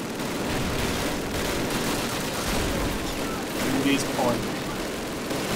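Call of Duty gunfire crackles in dense, continuous bursts under loud in-game noise, with a voice speaking over the shooting.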